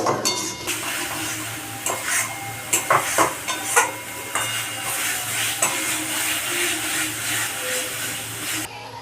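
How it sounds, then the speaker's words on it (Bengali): Spice paste for a Bengali egg curry sautéed with a splash of water, with a steady sizzle and repeated scraping and clinking of a spatula against the pan, close and fairly loud, no talking. "আমি একটুখানি জল দিয়ে মশলাটা ভালো করে কষাবো।"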